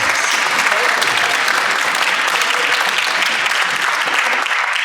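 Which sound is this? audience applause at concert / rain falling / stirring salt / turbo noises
audience applause at concert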